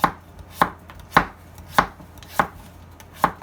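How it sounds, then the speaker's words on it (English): Knife chopping through butternut squash into thin slices, six crisp, evenly spaced cuts about every half second, close and clear with no talk. "I like to do it into thin slices like this."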